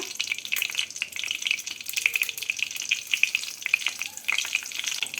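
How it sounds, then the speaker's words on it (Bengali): Two dried red chillies and two bay leaves crackle and sizzle in hot white oil for a tempering of Bengali winter mixed-vegetable curry, with steady close spattering and popping throughout. "তেলটাকে গরম করে নিয়ে এর মধ্যে দিয়ে দেবো ফোড়ন ফোড়নে দিচ্ছি দুটো শুকনো লঙ্কা দুটো তেজপাতা"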